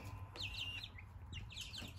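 Wellsummer and Wyandotte hens in a barn cluck softly and faintly, with a few short, rising calls and chirps over a low background hum.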